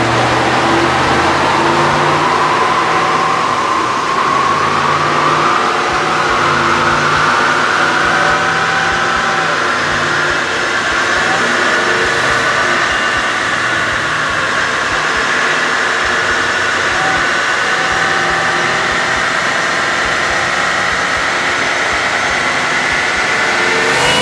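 A supercharged 2018 Roush F150 running E85 revs hard on a dyno, a loud sustained engine roar with the pitch rising steadily through the pull and a whining supercharger on top.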